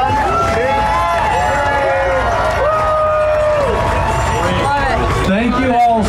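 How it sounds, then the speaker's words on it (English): Crowd cheering at the closing of an off-road games competition event, a dense sustained roar of many voices with whoops, loud and close throughout, swelling slightly toward the end. "Let's get a cheer for him."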